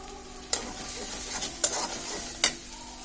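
Macaroni pasta being stirred with packet sauce and masala in a pan, a soft continuous sizzle broken by three sharp spoon scrapes or taps against the pan, no talking.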